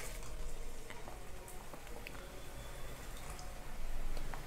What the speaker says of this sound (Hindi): और मीडियम फ्लेम पे इसे आपको फ्राई करना है गोल्डन ब्राउन होने तक।